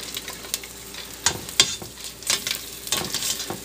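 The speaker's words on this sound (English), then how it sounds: "I'm going to saute the onions, soften them up a little bit first" Onions sautéing in an old pan give a soft steady sizzle, broken by several sharp bursts of frying and stirring scrapes at close range, with no talking.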